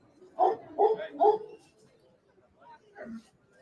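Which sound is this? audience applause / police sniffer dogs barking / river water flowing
police sniffer dogs barking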